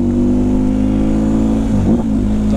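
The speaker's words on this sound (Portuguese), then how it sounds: "Vou ficar um pouco mais calado também pra você escutar só do escape" A steady, loud motorcycle engine idles with a deep throbbing exhaust note, dipping briefly with a short rev blip near the end.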